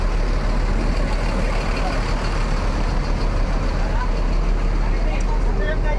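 A Gumarang Jaya intercity bus bound for Padang idles with a heavy, constant low engine drone at a busy terminal, faint crowd murmur and traffic noise around it.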